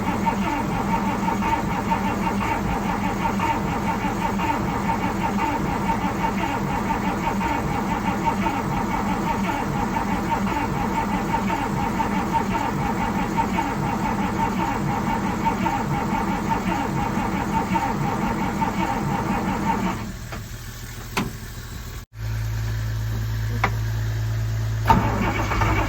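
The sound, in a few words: 1938 Dodge engine cranking and trying to start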